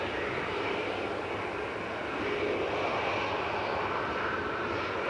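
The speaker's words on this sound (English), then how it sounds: "there's an Iceland Air 767, which we're hoping is going to be departing" A steady, broad jet roar from an Icelandair Boeing 767 at Manchester Airport, loud and continuous with a slight swell midway, heard without speech.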